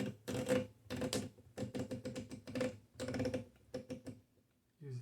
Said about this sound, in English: time to do some typing